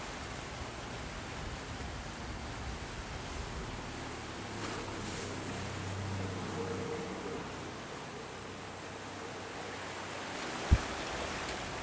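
A boat travels downriver past a large barge through swift, rushing water, giving a steady broadband wash of water and wind with a low motor rumble in the middle and one sharp knock near the end.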